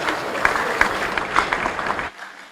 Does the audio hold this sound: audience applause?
yes